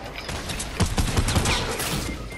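Rapid gunfire in Fortnite, a burst of quick close shots in an uneven volley over a couple of seconds, loud and without talk.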